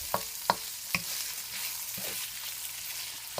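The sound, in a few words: onions, garlic and meat sautéing in a pan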